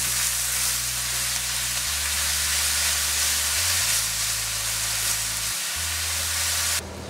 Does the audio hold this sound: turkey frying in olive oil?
yes